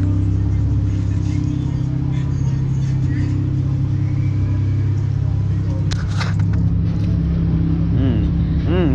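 A K24-swapped Honda Integra with a hybrid racing intake and new wheels drives along, its engine droning loudly and steadily with a rising rev near the end, someone talking over it.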